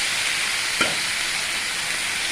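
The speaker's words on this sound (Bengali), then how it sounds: "এইবার চিংড়ি মাছটা অল্প অল্প ভাজা হয়ে এসছে।" Shrimp frying in a pan, a dense, steady hiss of hot oil that stays loud and even throughout, with one brief clink partway through and no voices.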